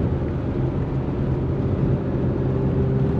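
A BMW E36 M3 on a long highway drive, heard from inside as a steady low engine drone and road rumble with a faint even hum, continuous and unchanging, no voices.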